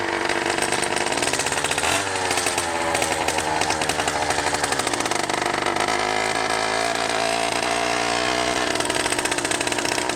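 A 100cc two-stroke motorized bicycle engine with a 49mm iron sleeve runs after starting, a loud buzzing, rattling drone that revs and settles while warming up, close and continuous throughout.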